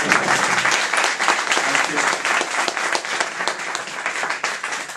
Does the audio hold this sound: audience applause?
yes